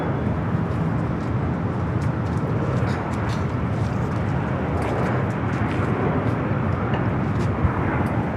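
A Fiji Airways jet on flight 810 from Nadi arrives, its engines making a continuous, even roar that holds steady at moderate loudness for the whole stretch without talk.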